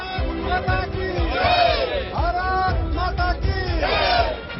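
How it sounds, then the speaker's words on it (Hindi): Crowd in Ghaziabad loudly shouting the patriotic chant Bharat Mata ki Jai to welcome rescuers returning from Operation Dost, many voices raised together in rising, repeated cries, near and continuous. "भारत माता की जय के जयकारे"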